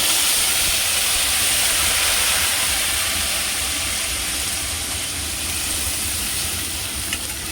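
Onion paste sizzling in hot oil in a kadai, a dense, steady hiss that stays loud and even from start to finish with no voices.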